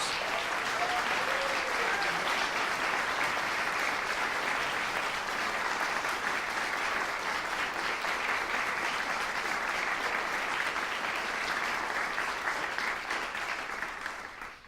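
Sustained audience applause for the performers at a young chamber musicians competition, a dense steady wash of many hands clapping at even loudness for the full stretch, tapering slightly at the very end.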